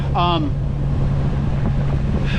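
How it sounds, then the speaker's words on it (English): A sailboat's engine, restarted after stalling from suspected fuel trouble, runs with a steady low drone under wind noise, while a voice briefly speaks over it. "I started the engine. It's running again."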